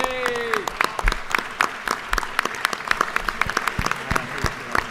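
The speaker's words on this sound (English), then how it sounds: "please stand and let's give them a round of applause" A crowd applauds in a legislative chamber, with loud steady clapping that stays dense and even throughout, and a short whistle or voice sliding down near the start.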